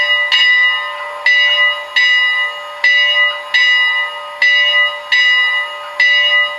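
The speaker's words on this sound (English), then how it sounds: "Okay, the bell sounds pretty good." A model steam locomotive bell played through a TCS WOW Heavy Steam sound decoder rings in loud, evenly spaced clangs, about eight strikes, each fading before the next, heard alone.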